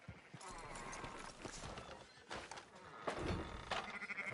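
Sheep bleat repeatedly in Red Dead Redemption 2, close and fairly loud, mixed with the clip-clop of hooves and other livestock noise throughout.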